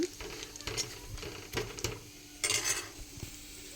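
A Telugu-style tempering sizzles in a pan with steady low frying hiss, punctuated by a few stirring clinks and scrapes of a utensil against the pot, brief louder bursts midway and near the end.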